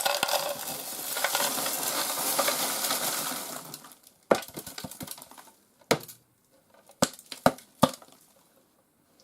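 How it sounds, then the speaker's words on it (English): Debris is tipped out of the bin of a 1996 Black & Decker Classic Dustbuster HC4105 handheld vacuum: a rushing, rattling pour for about four seconds, then a handful of sharp, separate clicks and taps. "open the bin and take out the filter, which has actually stayed pretty clean. You just tip out the contents."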